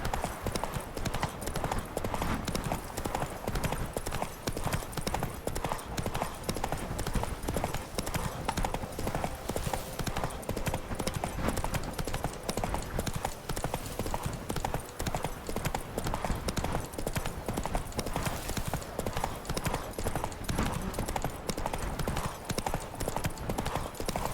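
Roach, the horse in The Witcher 3 game, gallops in a steady fast rhythm of hoof clip-clops that runs the whole time, loud and near, with an occasional faint voice underneath.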